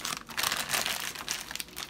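Crisp plastic bag crinkling close by as it is twisted around a fig cutting, a continuous rustle with small bursts of louder crackle throughout, no voices.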